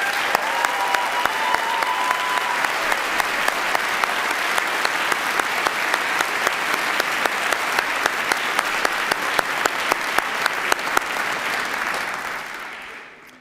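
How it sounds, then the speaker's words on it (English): Sustained audience applause at a city council inaugural ceremony, a thick roar of many hands clapping at a steady level that fades away at the very end. "please give them an enormous round of applause"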